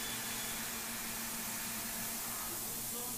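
A 5-axis CNC machine cutting with a 1/4-inch solid carbide cutter at about 130 inches per minute: a steady, broadband whooshing roar with a faint sustained tone underneath, continuous and even, and no one talking.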